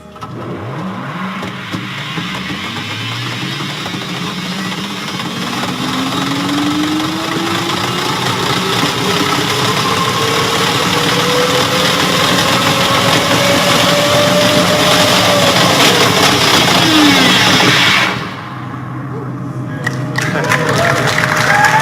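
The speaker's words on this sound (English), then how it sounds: "So that was a video of a test pod ride that we did in the Hyperloop" Hyperloop test pod riding through its tunnel: a steady, loud mechanical roar with rising and falling whine tones as the pod speeds up and slows, ending in an abrupt drop near the end.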